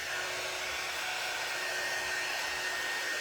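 Heat tool blowing hot air to dry Mod Podge on a cross, a steady close whooshing roar that holds constant without a break.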